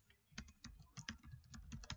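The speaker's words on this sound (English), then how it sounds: "So you start by typing in your name" Quiet, steady typing on a computer keyboard, a quick run of light key clicks with no talking.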